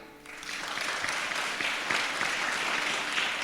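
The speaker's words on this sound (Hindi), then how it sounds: "जोरदार ताली बजाएं" Loud, sustained applause from a crowd at a church prayer service, dense clapping that swells quickly and continues steadily.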